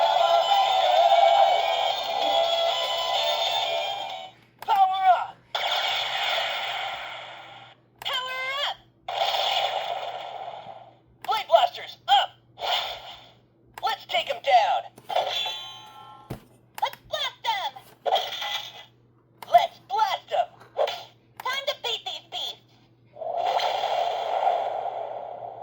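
Electronic sound effects from a Playmates Power Rangers Re-Ignition Blade Blaster toy, a run of loud synthetic zaps, swooshes and chimes in short separate bursts with brief gaps between them.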